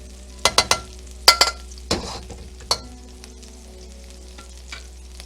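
Onions frying in a pan and pushed aside with a utensil, a few sharp scrapes and clinks over a low steady sizzle, close by.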